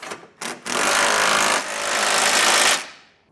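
A powered impact tool with a 3/4-inch socket tightening trailer hitch hardware on a 2023 Ford Bronco Sport, two short bursts followed by a loud, sustained rattling hammer that rises slightly before cutting off.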